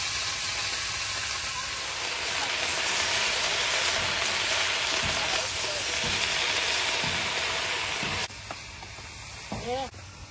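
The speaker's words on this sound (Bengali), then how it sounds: "কচু পাতাটা কড়াইতে দেওয়ার সঙ্গে সঙ্গে কমে যাচ্ছে।" Taro leaves frying in a wok with ground spice and chilli give a steady, close sizzle and hiss throughout, dipping in loudness near the end with a few brief stirring scrapes.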